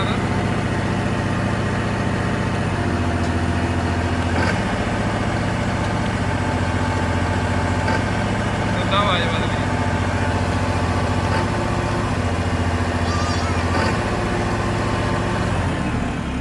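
A New Holland 5620 CRDI tractor engine runs steadily in a loud, continuous diesel drone with a slight shift in pitch partway through, heard up close.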